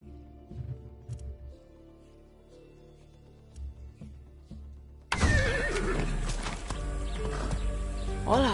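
In the video game Far Cry 6, a horse whinnies loudly amid clopping hooves, following a quieter stretch of soft, scattered sounds.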